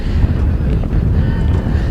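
Strong wind at a high school softball game buffets the microphone in a constant low rumble, gusting throughout with no clear voices.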